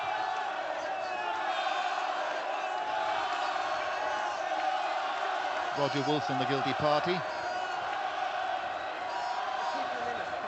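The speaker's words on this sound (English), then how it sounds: "And the crowd start to get behind their heroes as the clock ticks down" A home crowd at a Scarlets versus Ulster rugby match keeps up a broad, distant roar that swells briefly near the middle, heard under a commentator's voice.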